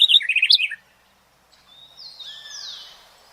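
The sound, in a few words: birds chirping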